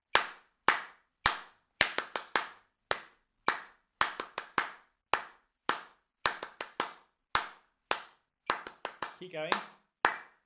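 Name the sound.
people clapping a rhythm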